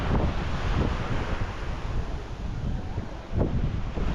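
Waves on Nacpan beach in El Nido, a steady wash of surf blended with gusting wind buffeting the microphone, with a few louder breaking surges.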